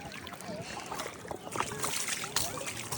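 Water is poured and splashed while a child is washed, with irregular sloshing bursts near the microphone under an adult's talking.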